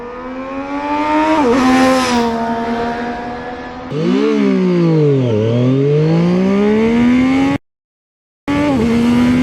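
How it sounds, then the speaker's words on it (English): A sport motorcycle launches hard on a 0-100 km/h acceleration run, its engine revving high and climbing through several gear changes in rising and falling sweeps, loud and close, with a brief dropout near the end. "It's really easy to launch this bike."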